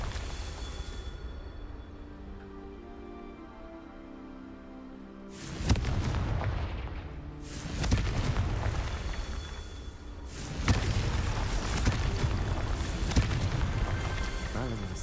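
Confringo spell explosions in the Hogwarts Legacy video game, several deep booming blasts that rumble and linger, heard over a steady game music bed.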